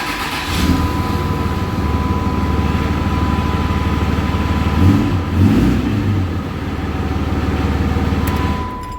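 A rebuilt Cummins diesel engine in a truck runs steadily at idle with a low, even rumble and a steady whine, rising briefly in a couple of revs, close and loud.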